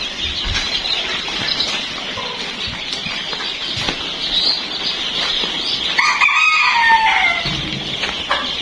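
Egyptian Fayoumi chickens on a farm cluck and crow together, a loud busy flock with wing flapping and a rooster's crow rising near the end.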